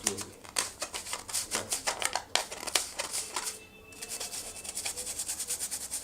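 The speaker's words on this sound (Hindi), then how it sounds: "मैंने अच्छी तरीके से अपनी छन्नी को हर तरफ से ब्रश की मदद से रगड़ लिया है" A brush scrubbing a soot-caked sieve on all sides, fast rhythmic bristly rasping strokes close to the ear, with one short pause partway through.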